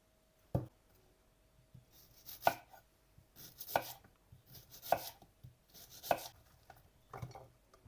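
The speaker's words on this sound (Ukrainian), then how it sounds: "Наступним кроком потрібно нарізати цибулю кільцями." An onion is chopped into rings on a board, giving about seven sharp knife knocks at irregular intervals, each followed by soft rustling, close and fairly quiet.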